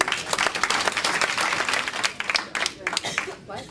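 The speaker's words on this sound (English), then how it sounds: "really a big round of applause" A big round of applause for Clinton delegates at the 2008 Democratic National Convention: dense, sustained clapping from a large crowd with scattered shouts, loud and close throughout.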